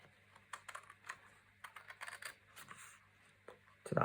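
A craft blade scores and cuts through card along a score line, a series of faint, quick scratchy strokes and taps close up, ending with a louder rustle.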